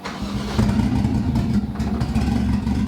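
A Toyota 1JZ engine in a Datsun cranks and catches, then settles into a steady, rumbling idle close by, with no voices.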